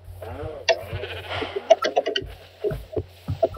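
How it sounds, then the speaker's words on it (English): Sheep in a factions-mode video game bleating several times in short, wavering calls scattered across the stretch, with clicks and thuds of game action in between. "That's a sheep. They changed one of the pigs out with sheep."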